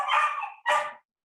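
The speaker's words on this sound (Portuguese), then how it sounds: "Deixa eu ver aqui o que é que esse cachorro tem" A dog gives two quick barks, the first longer and the second short and sharp, loud and close with nothing else around them.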